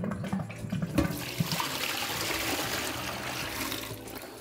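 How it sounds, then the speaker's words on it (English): Water is poured into a WilliamsWarn Brewkeg and swirled around to rinse it, a close splashing pour that settles into a steady sloshing, trickling wash. "Now what we're gonna do is just give it a little rinse. Some water. Give it a good swirl around."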